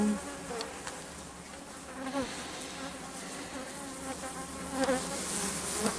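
Agitated black honeybees buzz at an apiary during a strong nectar flow, a dense continuous drone from many bees close by with individual insects swelling louder as they pass near.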